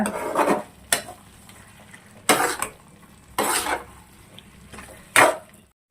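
Tomatoes and tamarind cook in a pan for chutney, with a spoon scraping and stirring in about five separate short strokes over a faint sizzle, close by and without talk.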